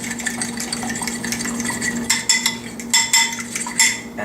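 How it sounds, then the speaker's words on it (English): Eggs being whisked in a bowl for scrambled eggs, a steady stream of fast metallic clinks and scrapes close by, growing louder and choppier toward the end, with a low hum underneath. "And now that I have it whisked"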